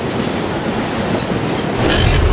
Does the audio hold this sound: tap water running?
no